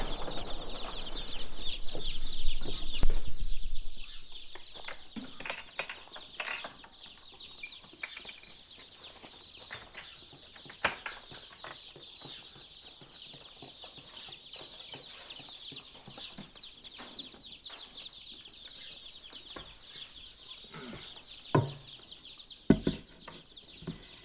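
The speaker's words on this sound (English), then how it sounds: "These are our Cornish Cross chicks." Cornish Cross chicks in a brooder, a dense chorus of high, steady peeping that continues throughout, with occasional louder bumps and rustles nearby.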